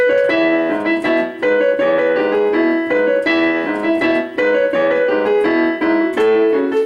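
Piano plays a bouncy, upbeat rock tune with repeated chord stabs and a moving melody, steady and fairly loud throughout.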